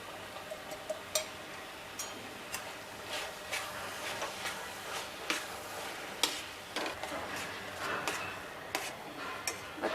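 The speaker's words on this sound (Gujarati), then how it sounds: "આ બબલ બંધ થઈ જાય ને ત્યાં સુધી આપણે ચલાવવાનું છે" A spoon stirs thick halwa bubbling in a pan, giving soft, irregular ticks and scrapes with faint popping throughout, fairly quiet.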